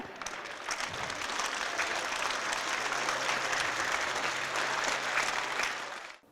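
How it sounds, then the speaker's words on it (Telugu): Students at a school meditation program clap their hands together, a steady, dense round of applause that holds at an even level for about six seconds before stopping abruptly. "అందుకని క్లాప్ చేయాలి."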